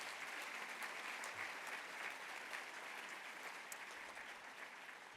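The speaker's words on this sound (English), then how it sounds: "Let us give Fran Pastore and her team a round of applause" A gala audience gives sustained applause for Fran Pastore and her team, a broad even wash of many hands clapping, faint and distant.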